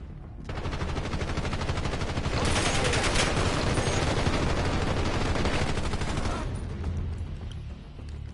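Sustained automatic gunfire in a battle royale video game, a dense, loud continuous barrage of shots lasting several seconds before tapering off.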